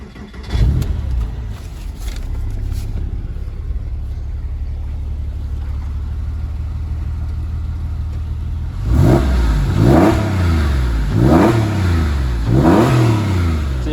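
Porsche 996 with aftermarket exhaust back boxes, a steady loud idle followed by four sharp rising-and-falling revs from about nine seconds on, close by with no talk.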